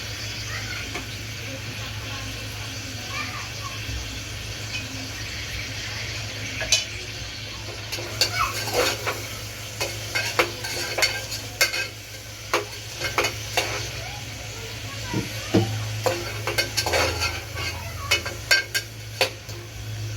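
Tomatoes go into sautéed onions in a pan, a steady low sizzle of frying under sharp clinks and scrapes of a spoon stirring against the pan, the knocks coming irregularly and growing more frequent.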